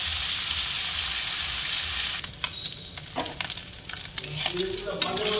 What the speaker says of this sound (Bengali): এই মাছ ভাজলে বন্ধুরা কড়াইটা খুব গরম করে মাছটা ঢালতে হবে